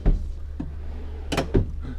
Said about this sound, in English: they give you nice wooden pull-out drawers as well under here